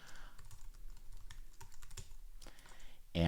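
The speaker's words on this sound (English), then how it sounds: "And then I'll type in my password if I remember it." Fingers tap out a password on a computer keyboard in a quick, uneven run of close, crisp keystrokes, ending with a louder thump as a final key is struck.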